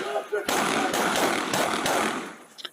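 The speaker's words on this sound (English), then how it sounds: "Then he fires." Gunshots fired by a police officer, a burst of several loud, sharp cracks in quick succession with little pause between them.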